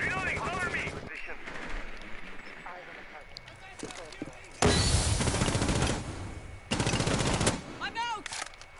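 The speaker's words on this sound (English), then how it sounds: "Ash has sprayed a full mag at this Vault cam and still hasn't got it." Rainbow Six Siege gunfire during a league match comes in repeated bursts of rapid automatic fire, some loud and close and some softer, under steady commentary talk.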